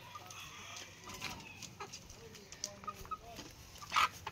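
Chickens cluck in short, irregular bursts, sometimes overlapping, close by on a farm with brooding hens, with a sharper outburst near the end.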